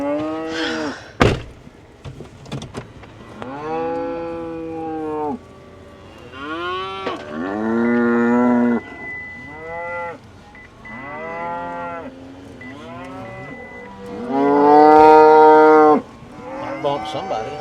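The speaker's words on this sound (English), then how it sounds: "And I really like this set of cows." Cattle on a ranch moo repeatedly, with several long, loud, close calls spread across the stretch and a sharp knock near the start.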